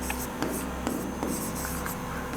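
A pen scratches across paper in short strokes and taps during a Hindi grammar lesson, a close, dry writing sound with a few sharper pen touches over faint room noise.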